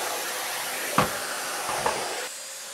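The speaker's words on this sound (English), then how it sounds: "So I'm gonna put two different vacuum heads on the same machine at the same power level." Vacuum cleaner running at a fixed power level with an alternate nozzle head fitted, a steady broadband airflow hiss throughout with two brief surges, then the tone dropping slightly near the end.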